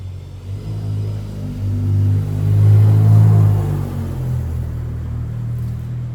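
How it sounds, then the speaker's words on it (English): A noisy Mitsubishi car with an aftermarket exhaust rumbles close by, its engine swelling into a louder rev midway before settling back to a steady idle drone, with no one talking. "She drives a very noisy Mitsubishi"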